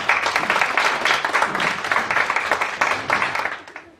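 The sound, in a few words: audience applause at a conference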